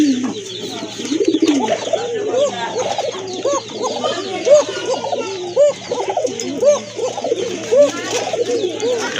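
Several pigeons coo repeatedly up close, overlapping soft throaty calls in an uneven rhythm, with someone talking intermittently underneath and a faint steady hum in the background.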